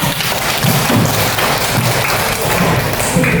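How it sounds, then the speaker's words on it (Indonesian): A classroom of students applauds a classmate with dense, steady clapping that stays loud and close for the whole stretch, with no talking over it. "Tepuk tangan dong untuk Fathan."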